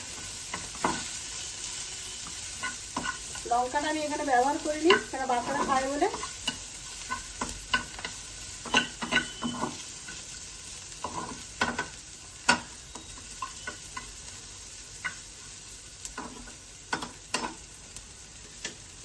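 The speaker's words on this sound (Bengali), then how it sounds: "একটু ভাজা ভাজা হয়ে যায়, তারপরে আমি ম্যাগিটা দেবো।" Onion and tomato sizzle and fry in a pan for Maggi noodles while a spoon stirs in quick scraping bursts, with brief clacks of the utensil against the pan; someone speaks briefly over the cooking.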